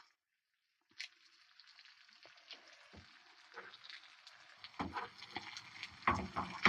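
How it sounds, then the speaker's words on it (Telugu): Fish fries in oil as a sprig of curry leaves is added, bringing a sudden crackle that settles into a soft sizzle, then grows louder with sharp popping bursts toward the end; no speech. "ఇగో ఫ్రై అయింది. ఇగో ఇందులో కరివేపాకు పెడుతున్నా, ఒక రెమ్మ."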